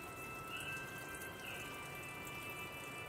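A laboratory tap runs over a microscope slide to rinse off stain during Gram staining, a continuous splashing flow with some dripping and faint thin tonal whines, close and steady throughout.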